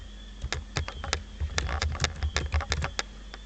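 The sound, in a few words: typing a search on a computer keyboard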